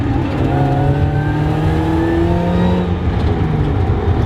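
A revving Mazda Miata rally car engine with a high, steady supercharger whine riding over the loud, rumbling roar, sustained throughout without speech.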